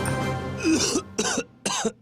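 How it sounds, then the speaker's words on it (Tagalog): Three sharp coughs in a row, each a harsh broadband burst, the first preceded by a rough throaty rumble; close and fairly loud. "Bago ka umubo, Takpan ang ilong at bibig gamit ang braso o tissue."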